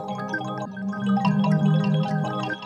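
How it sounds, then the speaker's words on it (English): Solo instrument routed through a stereo delay with its filter switched on, giving soft layered sustained tones with echoing repeats that blur together, fairly quiet and steady, with no one talking. "I've just got some stereo delay on send B with the filter turned on."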